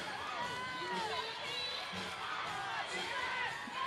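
A crowd at a CrossFit-style fitness competition in Miami cheers and whoops from the stands, a moderate wash of shouting and chatter with a commentator talking over it.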